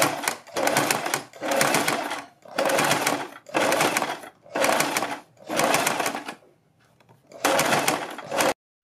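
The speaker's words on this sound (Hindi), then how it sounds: "इस तरह से यहाँ से सिलाई लगानी शुरू करेंगे, यहाँ तक लगाएंगे" A sewing machine stitches a neck strip onto a garment in a series of fast whirring runs, about seven close bursts with short pauses between them, heard alone and near.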